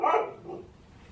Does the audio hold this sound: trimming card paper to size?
no